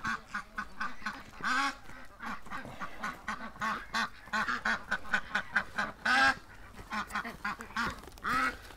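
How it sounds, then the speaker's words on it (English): An adult duck sick with botulism quacks repeatedly in uneven bursts, loud and close, with other ducks calling around it in an enclosure by a gate. "Oh, we got a hurt duck."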